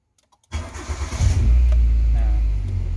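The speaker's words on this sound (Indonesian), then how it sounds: "nyalakan mobil" An old car's engine is started: a brief quiet, then the starter catches and the engine roars up before settling into a steady, loud idle.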